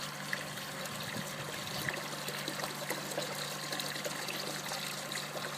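Water trickles steadily into a tank in a fluid mechanics lab apparatus for a hydrostatic gate test, a soft continuous dribbling stream heard close and alone, without talk.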